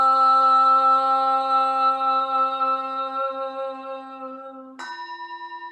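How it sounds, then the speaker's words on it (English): A large Buddhist temple bell rings with a long, resonant hum that slowly fades, then is struck again for a fresh, bright tone. "The sound of the temple bell booms for all to cease from conflict."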